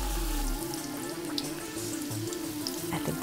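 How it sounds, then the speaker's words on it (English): Poli pastry dough frying in hot oil in a pan, giving a steady close sizzle with faint bubbling crackle that runs throughout, and no talking. "The oil's hot and we're ready to fry. Sizzles as it hits the pan."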